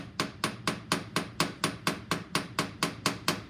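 A rounded ball peen hammer taps a metal pin into a hole, giving about fourteen evenly spaced, sharp metallic strikes at a steady quick rhythm, close and alone.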